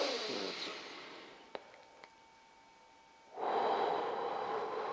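Slow breathing exercise: a long audible exhale fades out, a quiet pause with two faint clicks follows, then a strong deep inhale begins, close and alone.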